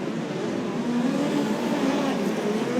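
Midget speedcars, around 340 horsepower and 420 kilos, race at Archerfield Speedway, engines blaring loud and continuous with pitch rising and sliding as they accelerate around the track.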